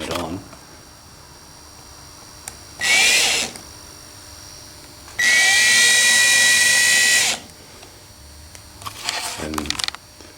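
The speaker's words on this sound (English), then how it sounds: "I'm using a hex bit drill. This is a 4mm drill" A small hex bit drill fitted with a 4mm bit whines in high-pitched bursts, one short and one longer sustained run, with faint speech and handling noise between them.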